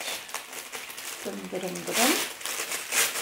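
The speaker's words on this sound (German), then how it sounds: "Wie immer in Seitenpapier eingepackt." Tissue paper crinkles and rustles while a subscription unboxing box is unwrapped, with crisp close-up crackles growing louder toward the end and a voice heard briefly.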